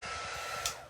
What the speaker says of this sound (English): your quick dry tool, which is not hot like a heat tool. It's like a hair dryer.